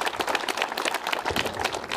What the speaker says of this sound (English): a round of applause should be given to them